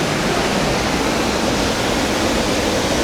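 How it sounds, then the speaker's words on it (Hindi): Waterfall in Dine Valley, a steady dense roar of falling water filling the clip evenly, loud and continuous with no voices. "उसको फोकस करें वो वाटरफॉल"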